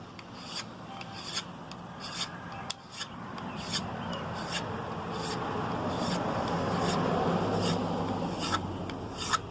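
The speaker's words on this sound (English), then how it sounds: "pulling that file against that blade" A hand file drawn in strokes along a deer antler knife blade to shape a bevel, giving a steady series of close, dry rasping pulls, one after another, with no talk.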